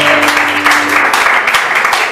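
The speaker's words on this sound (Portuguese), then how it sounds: "As palmas que louvam ao Senhor." Congregation clapping in praise during an evening church service, a brisk, loud burst of hands with a lingering tone fading out early and scattered accents throughout.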